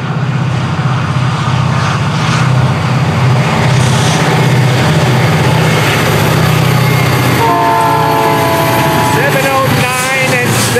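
FEC210, a freight train led by locomotives in old FEC colors, rumbles past loudly and close, with continuous rail noise, wheel clatter and a horn sounding toward the end.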